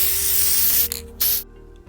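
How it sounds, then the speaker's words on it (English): Aerosol can of black spray paint laying down a Games Workshop Chaos Black undercoat on terrain pieces: a steady close hiss that breaks off, then two shorter bursts before stopping, with no talk. "we undercoat everything with a black spray paint, in this case a little GW Chaos Black"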